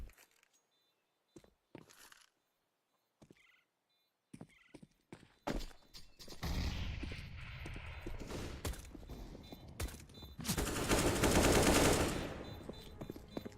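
Gunfire in a Counter-Strike match: a few sharp, isolated shots over near silence, then dense, loud bursts of automatic fire that keep going to the end.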